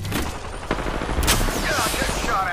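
Bursts of rapid gunfire in Apex Legends, dense overlapping shots and impacts close by, with a voice briefly speaking amid the firing.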